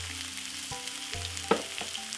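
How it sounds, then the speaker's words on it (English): Cabbage sautés in a pan for a Jamaican stir fry, a faint steady sizzle under low humming tones and one sharp clink partway through. "We're going to saute off this roughly about another 5 to 6 minutes."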